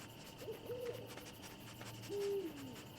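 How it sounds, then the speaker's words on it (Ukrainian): An owl in the video game Endling hoots twice, soft wavering calls over a hissy game ambience, quiet and fairly close, no talk. "Так, сову треба уникати."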